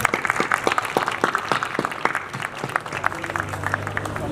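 An audience at an anniversary celebration and Vishwakarma Puja event claps loudly and steadily to welcome a guest, a dense run of many hands that continues for several seconds.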